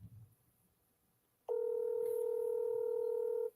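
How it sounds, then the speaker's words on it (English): A telephone dialing out to call someone back, a brief rustle followed by a loud steady electronic tone that holds for about two seconds, then stops. "I lost Betty, so I'm calling her again."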